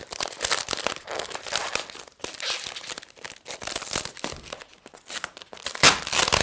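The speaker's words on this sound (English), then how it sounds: "maybe I can just peel this off if I can find where it begins" A sticker label being peeled off packaging during an unboxing, heard as close, uneven bursts of crinkling and tearing with short pauses, and a sharper rip near the end.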